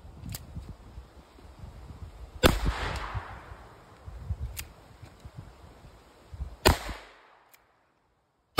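Outdoor range shooting with a .357 Magnum revolver at a pineapple: two loud, sharp shots about four seconds apart, each with a rolling echo tail, plus fainter clicks and handling noise between them.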